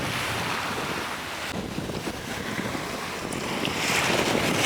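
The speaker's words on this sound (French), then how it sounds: "Ils annonçaient 8 nœuds de vent, mais là-dessous, là, il y a... Il doit bien y avoir 30, hein." Strong wind at sea roars aboard a sailboat, a loud continuous rush with gusting buffeting against the microphone and a wash of waves underneath.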